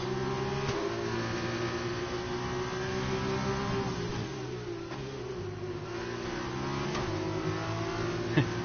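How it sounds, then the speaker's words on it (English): Formula 2 race car in a racing video game at Austria, its engine revving high and loud with repeated quick upshifts cutting the pitch as it accelerates, no talk over it. "His car sounds so nice when it changes like when it upshifts"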